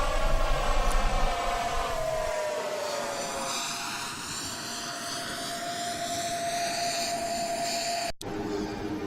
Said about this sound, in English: I'll be flying a 737-800 today on this trip.